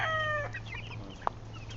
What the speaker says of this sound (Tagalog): Malamang ang tandang.